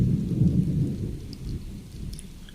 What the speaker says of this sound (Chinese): 好大的雷跟闪电，吓得我赶紧跑进车里来了。